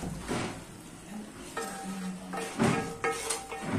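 Squid and shrimp frying in a pan of oil give off a steady low sizzle, broken by a few louder stirring scrapes and clatters of utensils against the pan.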